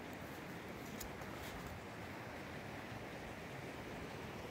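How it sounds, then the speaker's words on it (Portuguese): Water pours steadily over rocks at a waterfall in Capitólio, Minas Gerais, a continuous close roar of broadband rushing with no talk over it. "olha o barulho da queda d'água"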